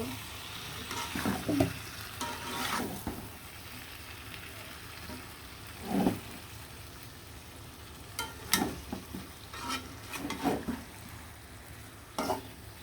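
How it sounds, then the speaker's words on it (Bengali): Fried chicken pieces are stirred with spices in a pan, giving a steady sizzle punctuated by several scraping, clattering stirs at close range, with no talking. "ভেজে রাখা মুরগির মাংসগুলো দিয়ে দিলাম দিয়ে ভালো করে মশলার সাথে মাংসগুলো একদম সুন্দরভাবে মিশিয়ে নিব"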